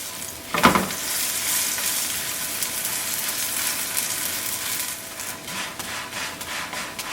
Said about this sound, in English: keep on rotating the pancake so it can be cooked and fried evenly from every direction